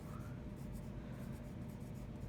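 Pencil shading on paper while drawing a value scale gives a steady, soft scratchy rasp that runs continuously and close for a couple of seconds with no talking.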